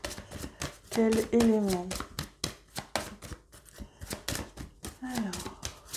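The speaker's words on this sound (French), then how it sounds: "Je prends bien le temps de mélanger les cartes" Tarot cards shuffled by hand in repeated rustling, riffling bursts close to the mic, while a voice speaks briefly between them.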